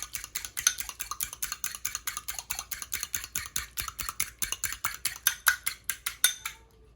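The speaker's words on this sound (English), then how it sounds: "And I'm whisking it so much." Egg being whisked with lemon juice in a bowl for a Jamaican Easter bun, a fast, even run of sharp clicking strokes close up that stops abruptly near the end.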